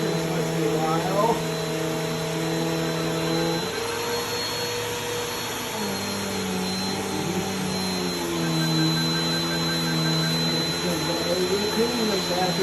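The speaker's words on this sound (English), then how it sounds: "Vacuuming the mattress once in a while." A vacuum cleaner runs steadily over a mattress with a constant loud whine and airflow hum, its pitch shifting slightly as it moves, while a person talks over it.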